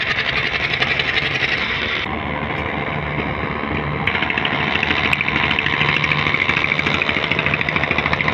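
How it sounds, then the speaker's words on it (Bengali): The passenger launch MV Zakir Samrat 3 reverses out of its Dhaka berth at dusk, bound for Ghoshar Hat, its diesel engine droning steadily and loudly with a rough mechanical hum, no voices over it. "তো এখন লঞ্চটি পিছন দিয়ে নামছে।"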